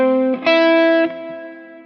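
Electric guitar through effects playing a minor triad shape one note per string, three distorted notes struck in quick succession and left ringing together, sustained and slowly fading, with no voice.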